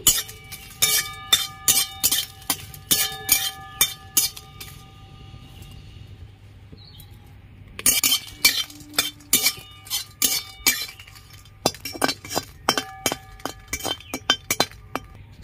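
Dry red chillies roast in a kadai over a village wood stove, with sharp metallic clinks and scrapes in rhythmic bursts, a quiet pause midway, then more stirring.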